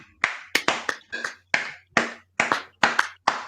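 Single pair of hands claps slowly and sharply nearby, about nine crisp, separate claps at an uneven rhythm with quiet gaps between, no talking over them.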